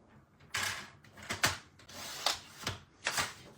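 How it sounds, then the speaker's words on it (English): A paper trimmer slicing designer series paper, giving several short scraping, rasping strokes with brief clicks between them, close and fairly quiet. "let's grab this again with our trimmer"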